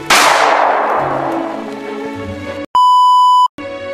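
A gunshot in the Roblox-style game Murder Mystery 2 bursts out loud at the start and decays over a couple of seconds, followed by a steady electronic beep tone.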